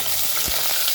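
Tempering of dried chilies, curry leaves and green chilies for tomato rasam, stirred in a pan with a dense, loud, continuous sizzle and one soft scrape.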